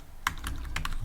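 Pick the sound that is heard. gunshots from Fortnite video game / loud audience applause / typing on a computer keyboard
typing on a computer keyboard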